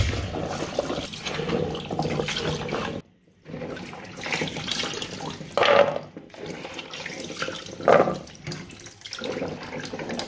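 Palm kernels (banga) rinsed under a running tap in a sink, steady splashing water with a brief pause, then louder gushes as the kernels are stirred and rinsed, close by.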